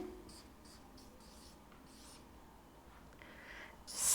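Chalk or marker scratching out strokes on a board as a teacher writes down a math problem in a first-grade lesson, short faint bursts of writing separated by brief pauses in a quiet room.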